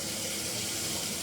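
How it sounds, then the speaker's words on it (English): Water runs steadily from a kitchen tap into a sink blocked with a rag and stopper, a loud continuous splashing rush that lasts the whole short moment. "make the water stay in the sink."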